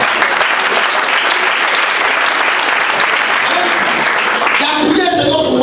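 A church congregation applauds and cheers in praise during a French-language sermon, a dense, steady roar of clapping and voices that lasts throughout.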